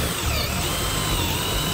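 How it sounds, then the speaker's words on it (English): A cordless drill set to drilling mode whirs steadily at a constant high speed, loud and close, running without pause. "We have it set to drilling, so this thing has variable speeds"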